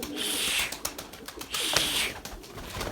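Pigeons at a loft perch give a few fluttering wingbeats and soft calls close by, in short busy bursts against an outdoor background.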